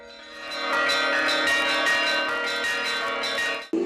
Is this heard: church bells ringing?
yes